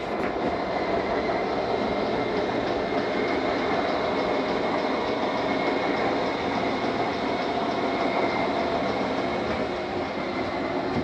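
Front slide-out of a 2020 Sierra 3550FL fifth-wheel RV retracting: a continuous, even motor whir and rumble holding at steady loudness throughout, close by, with no voices.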